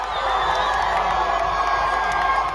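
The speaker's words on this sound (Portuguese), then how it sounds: "Agora sim, um grito de gol." A World Cup stadium crowd roars after a goal for Cabo Verde against Uruguay, a loud, sustained wall of cheering and shouting with whoops rising from the mass of voices throughout.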